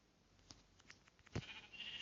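Sheep in a video game let out a short, nasal bleat after a few faint clicks, fairly quiet and close, with no talk over it.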